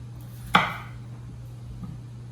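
A knife slices through a vegetable in half, the single sharp cut landing on a board in a quiet kitchen, with a low steady hum underneath.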